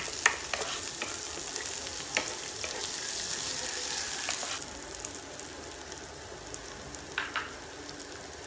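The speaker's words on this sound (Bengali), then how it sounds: "রসুনের ফ্লেভারটা যাওয়া পর্যন্ত ভাজবো" Garlic sizzles in a pan over medium heat for a broccoli dish, a steady crackling fry with occasional sharper pops and stirring scrapes, quieter and sparser in the second half.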